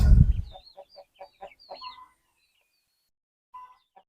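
Chickens released from a cage after months of confinement cluck in a series of short, close calls, loud at first then scattered and sparse, with a brief rustle at the start.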